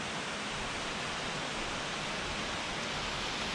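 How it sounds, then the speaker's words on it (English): An Alpine waterfall gives a steady, even rush of falling water, a constant broadband hiss with no breaks. "Wow, look at that waterfall."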